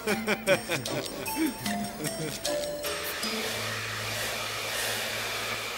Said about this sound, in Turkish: Çekilir mi bu kadar gürültü bir saç kurutmak için?